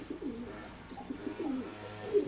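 Soft, repeated cooing from white domestic pigeons rolls in low, throaty phrases, faint and nearby in a quiet space.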